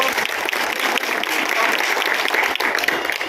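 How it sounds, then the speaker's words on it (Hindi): A crowd at a political campaign rally claps steadily and loudly throughout, dense continuous applause with no pauses. "श्रीमान संजीव जी बेनीवाल का जोरदार तालियों के साथ"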